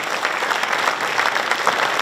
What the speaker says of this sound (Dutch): dank u voor dat applaus